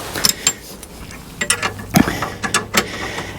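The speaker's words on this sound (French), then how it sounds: "On a un petit outil qui nous permet simplement de la serrer en place." A small tool tightens a bike rack mount on a Ram ProMaster van, giving a series of close, irregular ratcheting clicks and metallic ticks.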